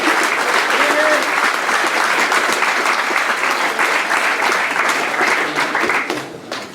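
Loud, sustained applause from a crowd honouring team managers after a minor B hurling final replay, a thick continuous roar of clapping that tails off at the very end.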